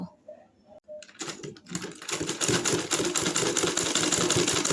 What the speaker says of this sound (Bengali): এই যে আমি এরকম টেনে টেনে চাপ সেলাইটা দিয়ে নিব।